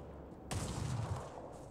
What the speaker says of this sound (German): Hören Sie das? Hier sind auch wieder Schüsse.